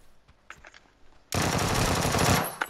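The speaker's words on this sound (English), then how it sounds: "Is somebody shooting you?" Sudden loud burst of sustained automatic gunfire in the battle royale game PUBG, erupting after a quieter stretch with faint clicks and lasting over a second before tapering off.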